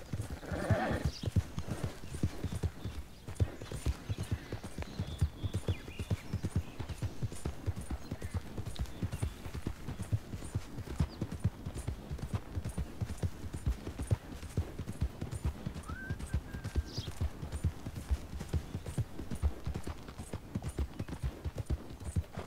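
Horse hooves gallop in the Red Dead Redemption 2 video game, a fast, unbroken clip-clop rhythm running the whole time, with a brief whinny near the start.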